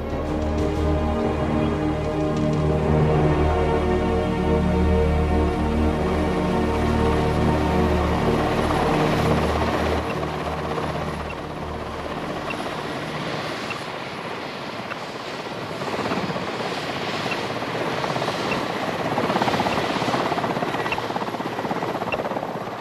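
A helicopter's rotor thrums loudly and continuously over snowy Siberian tiger habitat, with a steady engine drone that shifts slightly in tone as it moves.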